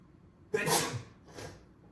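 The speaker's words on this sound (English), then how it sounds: "I'm gonna sneeze" A single sharp sneeze bursts out close up, followed a moment later by a softer, breathy second exhale.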